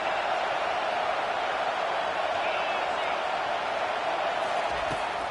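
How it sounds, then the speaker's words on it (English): Crowd noise at a college football stadium, a constant broad roar from many voices that fills the whole stretch under a commentator talking. "This crowd trying to make life miserable for this offense."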